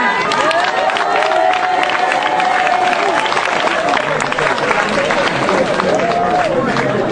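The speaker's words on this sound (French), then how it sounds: "On acclame Jésus." A church congregation acclaiming Jesus, a dense loud crowd roar of cheering, clapping and voices filling the space, with shouting and singing lines above it throughout.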